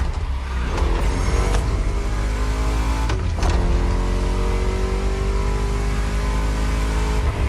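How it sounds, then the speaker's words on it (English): A V8 race car engine revving hard in a racing video game, loud and close, climbing and shifting through gears with sharp changes in pitch, with no talking. "Just listen to that V8 like a chonky, down-tuned guitar riff."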